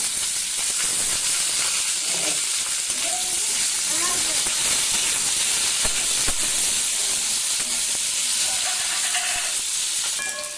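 Bay leaf, whole garam masala, tomato and chilli fry for a village-style cauliflower curry, making a loud, continuous hissing sizzle close by, with a faint voice briefly audible in the background.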